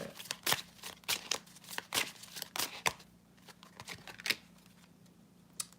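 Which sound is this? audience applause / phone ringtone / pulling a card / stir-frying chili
pulling a card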